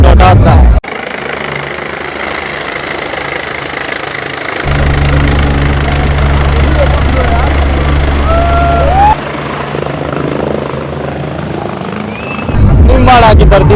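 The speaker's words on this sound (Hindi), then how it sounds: "अभी अभी लैंड हुआ है उनका हेलीकॉप्टर" A helicopter lands at Nimbahera in Chittorgarh, its loud, close rotor and engine drone steady and heavy, swelling partway through, while people talk over the roar.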